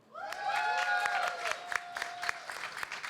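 Audience at a London 5G startup pitch contest bursts into loud cheering and applause for a contender, a short roar of voices and clapping that rises at once and thins into scattered claps and whoops.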